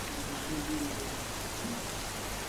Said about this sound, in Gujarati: અમદાવાદના વિવિધ વિસ્તારોમાં વહેલી સવારથી જ વરસાદ વરસી રહ્યો છે